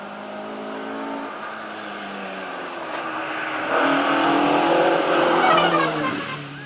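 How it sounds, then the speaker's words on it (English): During the Mull Rally 2019, a rally car approaches along stage 14 from a distance, its engine growing louder and revving hard as it draws near, with tyre squeal as it passes. "I can already hear the next car coming down there."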